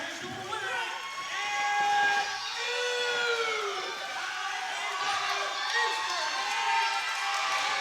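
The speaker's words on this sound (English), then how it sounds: "The crowd is going crazy." A crowd at a live independent wrestling show in Manassas, Virginia roars and cheers loudly and continuously, with shrill shouts rising above the din.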